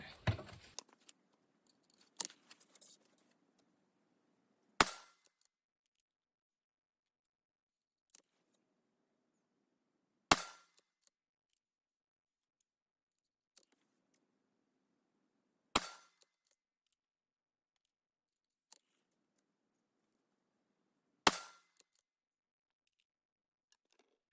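300 Blackout rifle firing H110 powder loads with NOE 310-177 cast bullets, here a 14-grain charge: five sharp, loud shots spaced about five seconds apart, each a sudden crack with a short tail, with faint handling clicks between and no talk.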